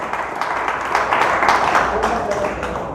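A church congregation applauds God during a Spanish-language sermon, dense sustained clapping from many hands, loud and close, with a voice speaking over it.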